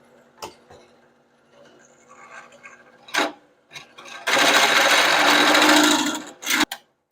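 A roughly twenty-year-old belt-driven power tool with a very worn belt whirs loudly for about two seconds amid scattered knocks and clicks from working on firewood hookaroon parts.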